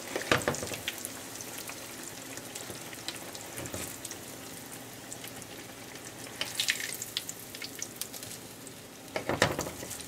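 Eggplant slices fry in a pan for eggplant Parmesan, giving a soft, steady sizzle. Brighter bursts of crackle and spatter rise near the start, middle and end, and there is no talking.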